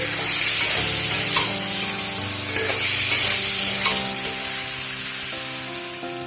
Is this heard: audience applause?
no